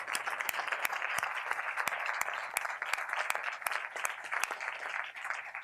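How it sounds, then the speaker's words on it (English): An evening audience at an International Day of Human Rights event gives a round of applause for award recipients, with many hands clapping in a continuous, moderately loud patter and no voices over it. "Let's give a round of applause to our awardees again."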